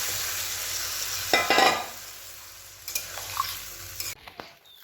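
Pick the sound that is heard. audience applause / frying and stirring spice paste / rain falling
frying and stirring spice paste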